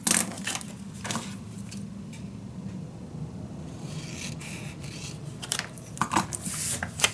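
Scissors snip through craft paper for a boxed mini album, giving a few close, crisp cuts with soft rustling of the paper in a quiet room.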